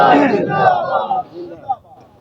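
At a religious gathering, a crowd chants a slogan in one loud, massed shout that fades out, followed by a few scattered voices.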